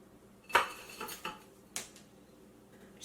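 Blueberries and frozen fruit chunks dropped into an Instant Ace Plus blender jar, giving a few hard clattering knocks spaced irregularly, close and moderately loud, with no voices.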